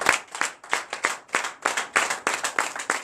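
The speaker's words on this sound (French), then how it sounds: "Donne l'acclamation." A congregation at a night deliverance and prophecy service in Benin claps in unison, sharp rhythmic beats about three per second, close and loud, with faint voices beneath.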